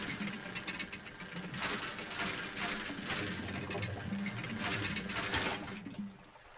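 A dredging winch in the fishing video game Dredge whirs and ratchets steadily with a dense mechanical grinding, sustained and loud, then cuts off abruptly near the end.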